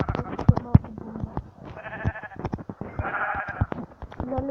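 Minecraft sheep bleat in a survival game, with repeated wavering bleats close by over a steady clatter of clicks and game noise.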